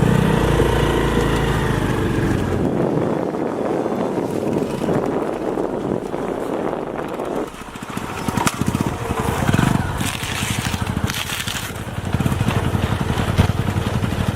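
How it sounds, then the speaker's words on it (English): A motorcycle engine running on calcium carbide gas, a loud, rough, sputtering drone that carries on throughout, its pitch and texture shifting partway through with wind buffeting the microphone. "There is a strange sound coming out of the engine."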